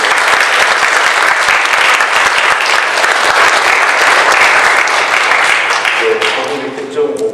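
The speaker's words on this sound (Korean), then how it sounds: "우리 한번 격려하고 박수하면 좋겠습니다." A church congregation at a Sunday service claps loudly for the short-term mission team and youth group, a thick continuous burst of many hands that fades near the end as a voice begins.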